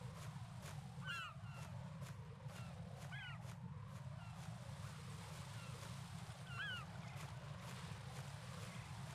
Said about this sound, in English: Seagulls. This sounds just like Cornwall.